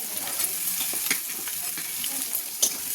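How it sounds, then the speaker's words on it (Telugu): Onion pieces fry in a hot pan for pasta, crackling and hissing steadily at close range, with a few sharper pops and scrapes from stirring. "ఇప్పుడు ఆనియన్ ముక్కలు వేస్తున్నాను, ఉల్లిపాయ ముక్కలు."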